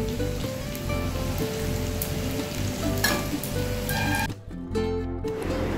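Bitter gourd with potato and pumpkin frying in a pan, a continuous loud sizzle and spatter over a low hum, briefly dipping near the end before the crackle resumes.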